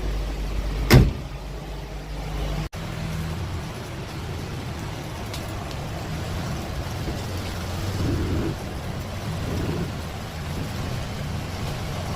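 An old Datsun in need of a rebuild, smoking and leaking oil, creeps forward under its own power: a steady, close engine and road rumble with a sharp knock near the start and no talk.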